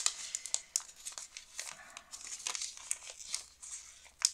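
Paper packaging is torn open from an Advent calendar during an unboxing, with crisp crinkling and ripping in irregular bursts, close and fairly quiet, with a sharp tear at the end.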